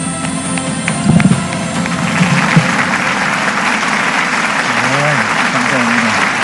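Loud, sustained applause from a large rally audience honoring heads of state, a dense wash of clapping with no talk over it.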